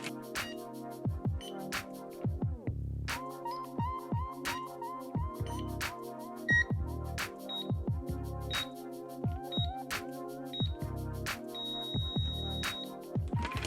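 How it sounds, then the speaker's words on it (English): An Isochain strength training device timer beeps in a steady rhythm while 20 pounds or more of force is held, short tones with a few longer ones, clear and close with no talking. "it's gonna make different types of beeps as long as I'm holding 20 pounds of force or over"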